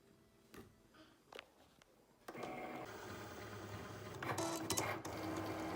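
A craft cutting machine grabs and feeds in material, with a few soft clicks and knocks, then a steady whirring motor hum that rises slightly toward the end, close and fairly quiet.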